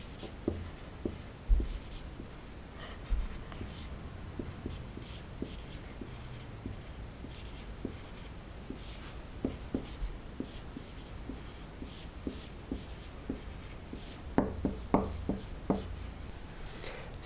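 A pen scratches steadily on paper while a math proof about the angle between two vectors is written out by hand, with soft, close strokes, occasional taps and a few brief bursts of quicker writing near the end.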